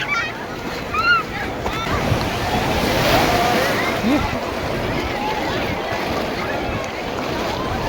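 Sea waves wash onto Digha beach in a continuous loud rush of surf, with wind buffeting the microphone and faint voices of people in the water.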